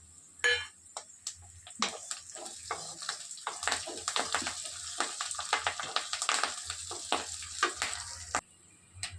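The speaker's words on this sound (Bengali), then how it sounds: "এই কারি পাতাগুলো ছড়ে রেখেছি তেলের উপরে দিয়ে দেবো" Curry leaves are dropped into hot oil with onions and spit and crackle up close, with sharp irregular pops over a continuous sizzle and no speech.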